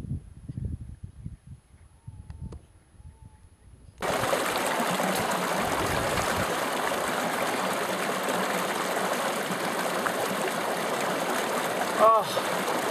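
A mountain stream in Ethiopia rushes and splashes in a constant broadband wash that begins suddenly and continues close and loud, with a brief knock near the end.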